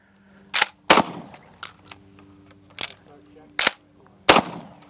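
Six loud shotgun blasts ring out at uneven intervals during a fast tactical shooting drill, each a sharp close crack with short decay, over faint background murmur.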